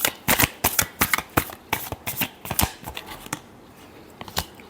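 Tarot cards are shuffled up close in quick rhythmic bursts of riffling and slapping, which slow into a few sparser shuffles near the end.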